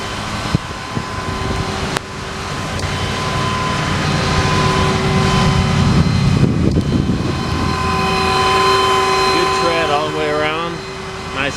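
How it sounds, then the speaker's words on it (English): The gas engine of a 2016 Ford F-550 mechanics truck with a 6,000-pound crane idles with a steady, droning hum that rises slightly midway, while faint tonal whines appear near the end. "Gas engine."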